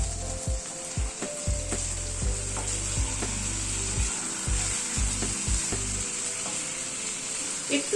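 Rohu fish curry with slit green chillies frying over a medium flame, a constant close sizzle with irregular wooden scrapes and knocks of stirring throughout.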